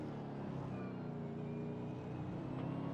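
A race car engine in a sim racing championship final holds a continuous buzzing, harmonic-rich throttle note, faint and steady, with slight pitch shifts as power is applied.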